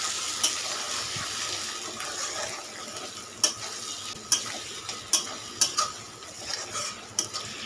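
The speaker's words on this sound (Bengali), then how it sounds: "ভাজা হয়ে গেছে এবার দিয়ে দেবো টমেটো" Tomatoes fry with spice paste in a pan while being stirred, a soft steady sizzle punctuated by sharp clicks and scrapes of a utensil against the pan, close and moderately quiet, with no talking.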